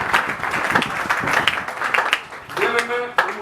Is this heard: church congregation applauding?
yes